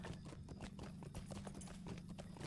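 Horse hooves clip-clopping along a road in the online game Lord of the Rings Online, a steady rhythmic trot of close, regular hoofbeats over a low continuous background hum.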